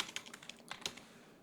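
A computer keyboard is typed on for a search query, giving a quick run of soft, close clicks at an uneven rhythm that fades out toward the end, quiet and with no voices.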